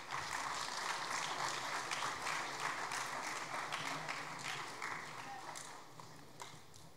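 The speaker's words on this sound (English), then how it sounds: "A huge round of applause for our swimmers." Applause from the audience at a school sports awards ceremony for the swimmers, a steady dense wash of clapping that holds throughout and eases slightly toward the end.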